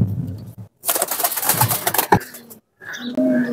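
Pigeons coo in bursts, loud and close, with short gaps of near silence between the throaty rolling calls.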